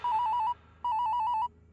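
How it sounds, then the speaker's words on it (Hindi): A mobile phone rings with two loud, close bursts of fast trilling electronic tones separated by a short gap. "कौन, किसका फोन बज रहा है भाई?"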